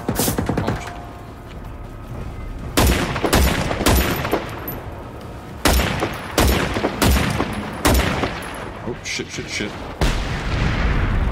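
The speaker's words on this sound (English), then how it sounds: "These missiles are terrifying" Missile blasts and rapid gunfire in the video game Generation Zero hit in repeated loud bursts, several heavy booms spaced a second or two apart over a dense rumble, with a short spoken exclamation.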